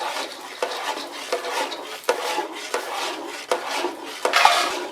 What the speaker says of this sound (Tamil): இந்த மாதிரி கொஞ்சம் கொஞ்சமாக நெய் ஊற்றி நம்ம கிண்டிக்கிட்டே இருக்கணும்